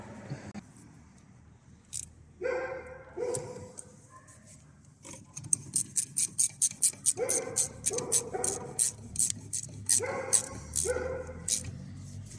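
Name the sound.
Labrador dog barking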